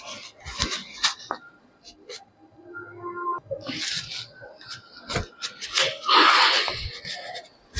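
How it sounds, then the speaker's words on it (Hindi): A marker board is rubbed clean with an eraser, producing a series of close, uneven scrubbing and squeaking strokes in irregular bursts. "तो चलिए अब मैं बोर्ड को रफ करता हूँ"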